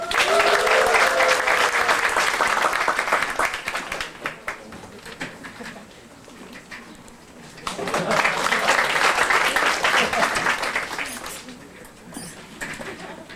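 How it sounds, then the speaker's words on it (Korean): An audience at a company intern presentation event applauds in two long, loud waves of dense clapping, dipping quieter in between and fading near the end, with a few voices mixed in early. "박수 부탁드립니다"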